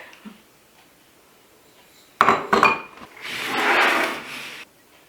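Gluten-free chocolate peanut butter brownie batter dumped into a pan and spread, sharp clinks and scrapes of a utensil against the pan followed by a longer smearing scrape, close and fairly loud, then quiet.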